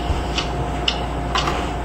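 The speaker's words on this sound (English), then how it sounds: "What is that mysterious ticking noise?" Faint, irregular ticking clicks sound over a steady background hiss, with no voices present.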